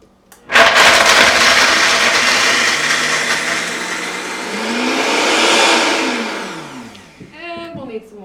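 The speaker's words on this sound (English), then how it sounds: "So we put it in the blender, blend it up good." A blender grinds almonds and medjool dates for raw homemade almond milk, roaring loud from the start, its motor pitch rising and falling as it churns, then spinning down at the end with a few clinks.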